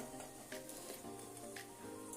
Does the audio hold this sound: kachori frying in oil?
yes